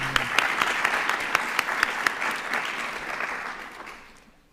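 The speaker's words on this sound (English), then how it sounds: "We can clap for her." Audience applause at an annual symposium, thanking an organizer; a full, even burst of many hands clapping that holds steady then tapers off toward the end.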